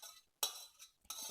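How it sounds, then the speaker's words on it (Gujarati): Curd and cream being emptied into a metal pot, giving a few brief metallic scrapes and clinks close by, separated by short pauses, with no voices. "તો હવે અત્યારે પાછું આ દહીં મલાઈ ભેગી થઈ છે ને એ બધી તપેલામાં ખાલી કરી લઉં."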